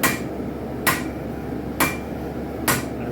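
Hammer blows on a heated railroad spike being forged into a knife, four sharp metallic strikes spaced under a second apart, close and clear over a quiet background hum.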